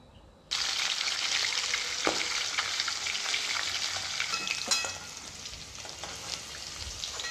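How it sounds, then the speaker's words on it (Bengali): Fish pieces drop into hot oil in a pan and set off a sudden loud, steady sizzle of deep-frying, with a few sharp spits and crackles as they crisp, and no voices. "তো মাছটাকে আমি খুব ভালো করে ভেজে নেব,"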